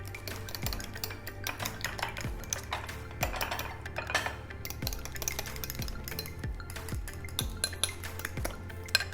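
A fork or spoon briskly whisks an egg into mashed banana in a bowl, with steady rapid clinking and scraping against the dish that carries on throughout.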